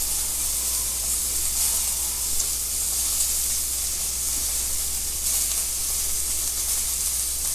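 Sirloin steak sizzles steadily with butter in a hot pan, a continuous close, loud frying hiss with no talking.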